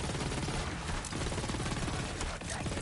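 Cryo-bullet gunfire in Borderlands 3 comes as a continuous, dense fusillade of rapid shots, loud and unbroken throughout.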